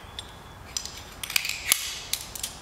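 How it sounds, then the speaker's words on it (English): Metal carabiner snapped and locked onto a pulley on a rescue rope during a 3:1 mechanical advantage haul setup, heard as a few sharp metallic clicks and ratcheting snaps, fairly close, with no talk. "lock the carabiner"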